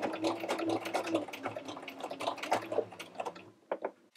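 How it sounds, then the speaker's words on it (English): A sewing machine runs a short back stitch through microsuede fabric for a doll garment, giving a quiet, steady mechanical whir for about three and a half seconds before stopping. "So now I'm going to come up and meet this and just do a little back stitch."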